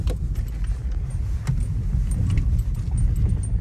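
Keys jangle and rattle steadily inside a moving Volkswagen Vento on a rough, dirty road, over a constant low rumble of engine and road noise, with no talking.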